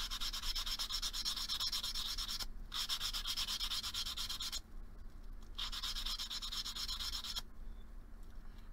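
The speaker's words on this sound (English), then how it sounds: "I'm just going to take some 320 grit sandpaper, and I'm just going to hit all of the edges with my sandpaper" Edges of an engraved crocus pendant are hand sanded with 320 grit sandpaper, giving steady, quiet scratchy rubbing strokes in long bursts separated by brief pauses.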